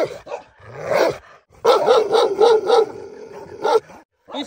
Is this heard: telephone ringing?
no